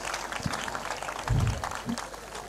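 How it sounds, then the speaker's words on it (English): Applause from the audience at a secondary school's speech day ceremony, a dense burst of clapping with some voices and low thumps mixed in. "Let's give them a round of applause."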